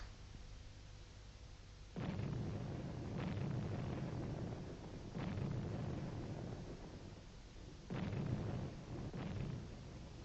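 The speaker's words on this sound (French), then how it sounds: "Est-ce que tu entends aussi les canons?" Deep, muffled cannon booms roll in from far away, four or five heavy thuds spaced a second or two apart over a low steady background.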